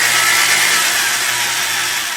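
A power drill bores into a plastic workpiece with a loud, continuous, high-pitched whine that holds steady throughout and fades slightly at the end.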